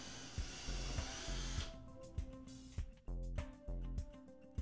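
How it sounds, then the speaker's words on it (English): A power drill bores 3/8 inch holes completely through a door, running in repeated short bursts, with the motor starting and stopping several times at moderate loudness. "Drill 3/8 inch holes completely through the door."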